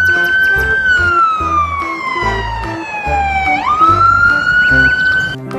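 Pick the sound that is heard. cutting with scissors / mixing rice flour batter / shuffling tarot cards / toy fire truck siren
toy fire truck siren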